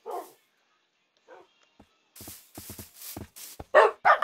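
Minecraft dogs (tamed wolves) barking in the video game, a few short sparse yips early, then a burst of several quick barks and whimpers toward the end, close and clear with quiet gaps between.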